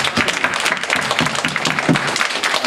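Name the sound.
congregation applause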